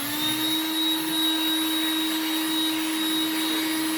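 A heat gun blowing steadily on the hinge of a Zagg Bluetooth keyboard case for a Galaxy Tab, producing a loud, continuous whirring drone with a sustained tonal whine that does not change over the whole stretch.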